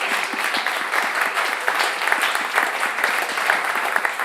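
A live audience at a string band radio show claps steadily for a band, a dense, even wash of many hands applauding close by with no voices standing out.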